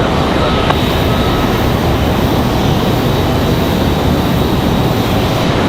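A Delta airliner taking off from runway 5 left at Raleigh-Durham International, a loud, dense, steady engine roar filling the whole stretch without letup.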